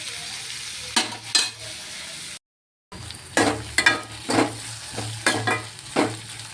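Bitter gourd and onion pieces frying in a pan, a steady sizzle broken by repeated scraping stirs in an uneven rhythm, close and moderately quiet, with a brief total silence partway through.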